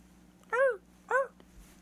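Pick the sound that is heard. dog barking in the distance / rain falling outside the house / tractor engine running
dog barking in the distance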